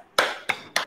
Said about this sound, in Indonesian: Kita beri tepuk bagus untuk Mbak Tia.